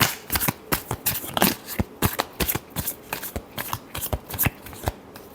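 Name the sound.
shuffling tarot cards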